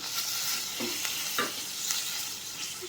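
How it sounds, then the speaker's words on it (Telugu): Pumpkin pieces, soaked in salt water, sizzle quietly in a pan while being stirred, a soft steady hiss broken by a few brief scrapes and light clinks. "ఇప్పుడు ఈ గుమ్మడికాయ ముక్కలను అయితే ఇందులో యాడ్ చేసుకుంటున్నా."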